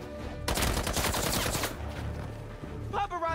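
Sustained automatic gunfire from armed paparazzi in Marvel's Spider-Man 2, a loud rapid burst that fills most of the clip before easing off, with a brief sharp clatter near the end.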